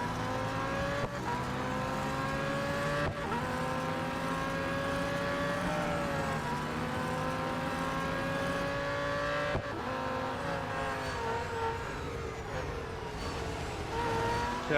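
A newly released race car in the Real Racing 3 mobile racing game, its engine droning steadily and loudly throughout with repeated rev shifts and gear changes as the car accelerates, no voices over it.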